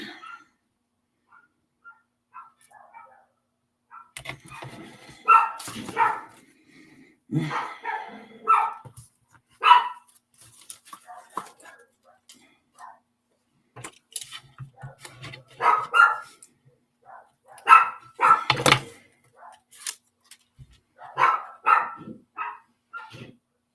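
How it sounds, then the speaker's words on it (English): Several dogs bark outside in scattered bursts of yapping and woofing, somewhat distant and muffled, with quiet gaps between the volleys. "Sorry about those barking dogs. Not sure what's going on outside."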